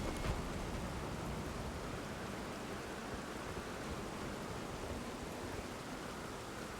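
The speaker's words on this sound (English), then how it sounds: "How could he have predicted this place that rains a lot? Dragon Barrow does rain a lot." Steady rain falls in Dragon Barrow in the video game Elden Ring, a constant, even wash of dense hiss with no breaks and no voices.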